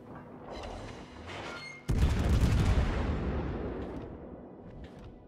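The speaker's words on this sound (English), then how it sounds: "This could be a really good salvo on the Neptune." A USS Buffalo Tier IX American cruiser fires a full gun salvo in World of Warships, one sudden heavy boom that rolls into a long, fading rumble, preceded by a quieter mechanical churn and followed by faint distant reports.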